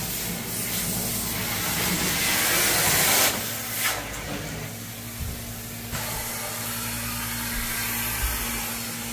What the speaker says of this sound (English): he's vacuuming all the edges.